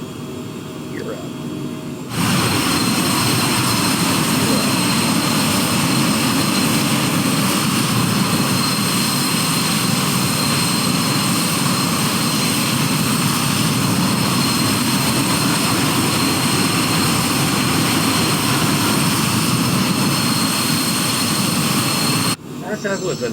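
The engine of a small aircraft roars loud and steady through takeoff and climb, a constant droning cabin noise that lasts about twenty seconds and cuts off at the end.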